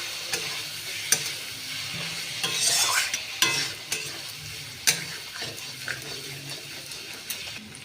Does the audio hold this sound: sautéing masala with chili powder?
yes